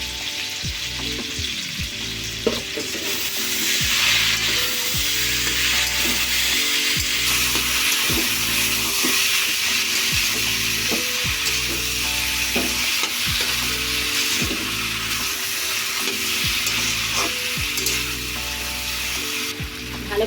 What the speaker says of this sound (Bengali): মশলার মধ্যে দিয়ে দেব, দিয়ে একসাথে কষিয়ে নেব